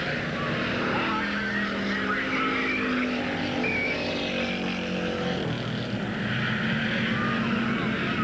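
Late model stock cars race around an oval track at Ada Raceway in 1987, a continuous roar of engines rising and falling as they pass, with a faint voice underneath.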